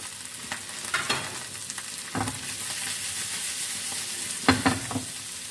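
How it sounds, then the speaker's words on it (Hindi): Chicken, boiled peas and vegetables stir-fried in oil crackle in a continuous sizzle, punctuated by a few distinct spatula scrapes and clacks against the pan, close up with no voices. "सभी चीज़ों को हम मिक्स कर लेते हैं। चिकन मटर सब्जियों को हम मिक्स कर लेते हैं ऑयल में।"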